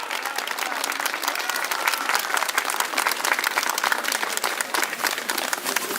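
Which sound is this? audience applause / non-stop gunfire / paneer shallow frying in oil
audience applause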